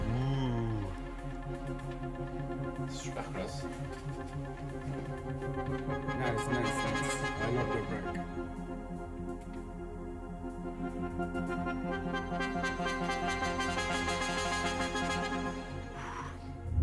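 A synth preset played on the U-He Diva software synthesizer sounds as a steady, rich chordal pad with bright swelling accents and a continuous low bass, moderate in level and alone.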